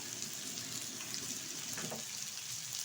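Potato, tomato and ground cumin fry in a pan while being stirred for a rui fish curry, a soft, continuous sizzling hiss with faint stirring movement beneath it and no voices.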